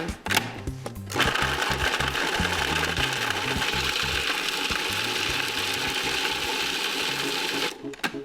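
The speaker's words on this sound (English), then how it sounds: "This is really fast Parmesan cheese, right into the food processor." A food processor grinding Parmesan cheese with a loud, steady whirring roar that runs for several seconds after a brief start, then cuts off near the end.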